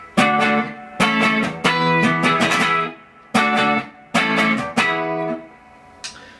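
A clean electric guitar on the neck pickup of an all-original 1969 Deluxe with mini humbuckers, played straight into an AC15 amp with a touch of reverb: bright strummed chords in several bursts with short pauses and a faint ring-out at the end.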